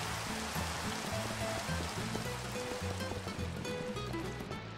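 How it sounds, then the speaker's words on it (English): Steady rain falling in Minecraft, a constant soft hiss and patter of drops spread evenly through the scene, faint and continuous, layered under a repeating low musical tone pattern. "Oh no! It's raining again."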